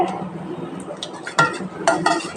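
A spoon clinks against a vessel while panakam drink with lemon juice and dry ginger powder is stirred, with irregular metallic taps and scrapes, close and fairly loud.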